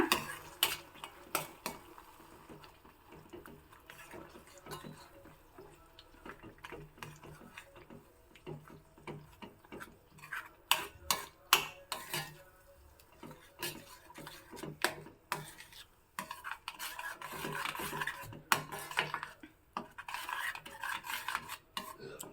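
Repeated scraping and clinking of a spoon stirring curry in a pot, irregular strokes with a quiet simmering boil underneath.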